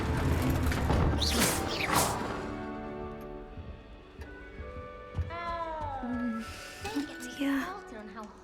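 A cat in the video game Hogwarts Legacy gives a couple of short rising and falling meows among whooshing game effects and mechanical clicks, with voices talking at times.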